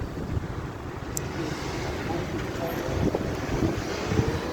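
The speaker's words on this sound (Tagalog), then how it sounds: "Grabe ang hangin!" Strong wind buffets the microphone in a continuous rumbling roar, with faint background sounds underneath.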